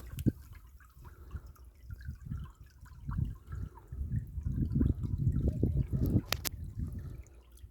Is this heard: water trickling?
yes